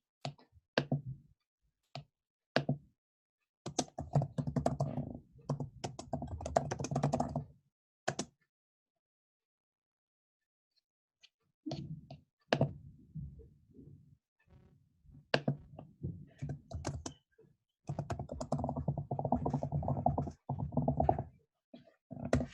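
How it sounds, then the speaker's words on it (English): Bursts of computer-keyboard typing while a quote is entered into a Canva design, rapid close clatter broken by several pauses and quiet gaps, with no voices. "So you just type in your quote."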